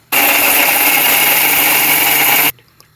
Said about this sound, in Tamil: மசாலாலாம் அரைச்சிடலாம் இப்போது.